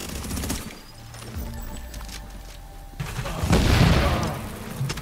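Gunfire in a squad manhunt match of a multiplayer shooter video game: scattered shots through the first seconds, then a loud, dense burst of rapid fire and booms in the second half. Faint voices may sit under it.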